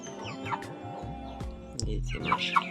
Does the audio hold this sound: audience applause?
no